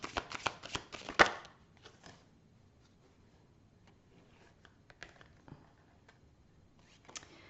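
Tarot cards being shuffled close up, a quick burst of crisp riffling and tapping at the start, then sparse soft card handling and a few light taps in a quiet room.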